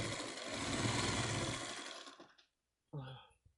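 A sewing machine stitches a crocheted piece in place, a steady whirring hum for about two seconds that stops, followed by a brief second burst of stitching, close and fairly quiet.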